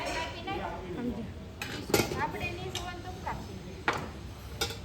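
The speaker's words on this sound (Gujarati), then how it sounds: "બે વાસણ સાફ ને એવું કરે છે" Dishes and pots are washed by hand nearby, giving scattered clinks and clatters of metal and crockery under steady background noise while people talk.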